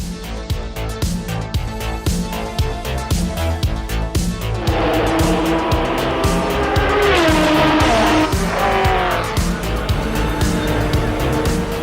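A Porsche race car roars at high revs, engine pulsing through rapid gear changes and climbing whine, loud and close for the whole stretch.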